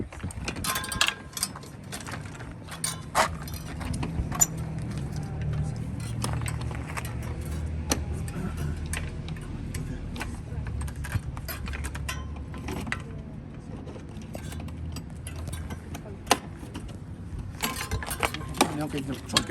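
Clattering metallic clicks and knocks as a disc-brake bicycle wheel is fitted back onto the bike, the rotor and hub parts tapping irregularly over a steady low background hum, close and moderately quiet.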